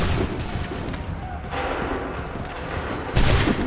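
Musket volley fire on an Assassin's Creed 3 battlefield, rolling bursts of gunshots and booms, with a loud fresh volley cracking out near the end over steady battle din.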